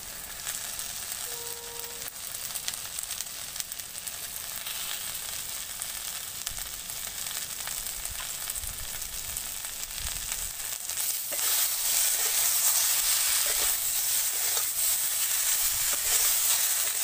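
Vegetables seasoned with salt and turmeric sauté in a pan, giving a steady, fairly loud sizzle throughout that swells brighter and stronger in the last few seconds, with no talking.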